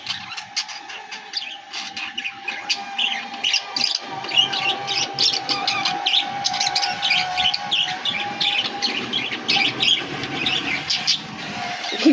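Pet birds chirp and twitter continuously in a busy, overlapping chorus kept at home, with a steady faint background hum underneath and no voices.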